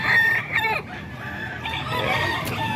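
Chickens at a poultry seller in Calumpit cluck and squawk close by, with a rooster's crow rising over the flock in short bursts.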